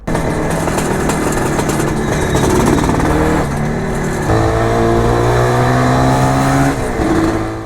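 A tuned IZh Jupiter 400cc motorcycle is ridden on a long highway trip. Its loud, close engine drones steadily, with audible gear shifts and changes in pitch as it pulls along, and no voices are heard.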